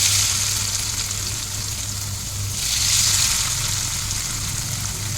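Potatoes fry steadily in a pan, giving a continuous close sizzle that swells briefly near the middle, with no one talking.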